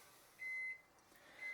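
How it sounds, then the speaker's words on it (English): Two faint, sustained electronic beeps from a microwave oven, a long tone followed by a shorter one, in a quiet room. "There's my microwave going off."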